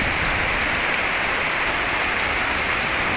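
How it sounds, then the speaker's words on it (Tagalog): Heavy rain pours down at a cemetery in the Philippines, a loud, even, unbroken hiss of water falling close by. "Biglang bumuhos ang ulan."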